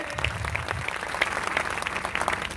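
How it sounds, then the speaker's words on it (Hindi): Audience applause at a village gathering marking the close of a religious recitation, a steady wash of clapping from a crowd that carries on through the whole moment with no voices over it. "तो एक बार जोरदार ताली बजाएं इनके लिए।"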